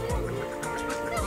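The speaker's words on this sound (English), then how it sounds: "You got the mallards, you got the geese, you got the ducks." Mallards, geese and ducks call while being fed outdoors: a dense, close chorus of honks and quacks that overlap steadily throughout.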